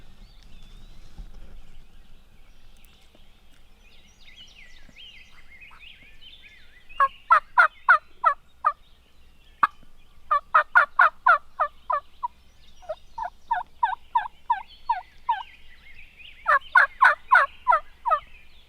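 Hard gobbling from a wild turkey longbeard in a Wisconsin field, arriving as several loud rattling bursts of rapid gobbles one after another, fairly close, with quiet ambience and no talking between them.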